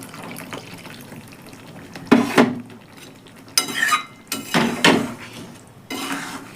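Spoon scraping and clattering in a pot of spicy flat bean curry (shim jhal) as it is stirred after water is added, several short bursts of metallic knocks separated by quieter pauses, close by with no talking.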